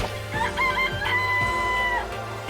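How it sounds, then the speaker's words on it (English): A chicken in the Danganronpa video game clucks and crows loudly and close up, with several drawn-out, warbling calls in quick succession and no talking. "It's a chicken."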